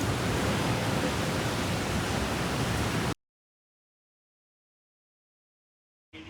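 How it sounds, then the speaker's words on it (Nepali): Heavy rain and strong wind during a cyclone, a loud, dense, steady roar that cuts off abruptly to silence midway, then briefly returns at the end. "यति धेरै ठुलो पानी परेको छ"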